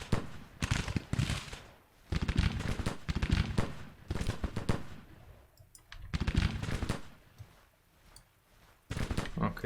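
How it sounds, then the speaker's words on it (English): Musket volleys in the Civil War strategy game Grand Tactician, crackling clusters of many rifle shots rolling in irregular bursts separated by brief lulls, fairly close and dense. "So fire at will, fire at will, fire at will."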